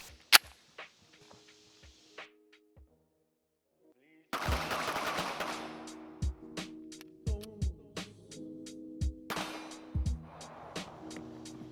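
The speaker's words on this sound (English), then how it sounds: "It's a good shooting gun. It shoots." Canik SFX Rival Dark Side pistol firing, a series of sharp, separate shots with an uneven rhythm, some loud and close, over a running background of wind or outdoor noise.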